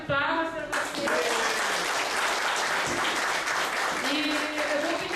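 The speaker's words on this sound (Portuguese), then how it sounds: "Quero pedir uma salva de palmas para vocês." An audience at a lecture on criminal procedure breaks into loud, sustained applause with dense clapping throughout, close and full.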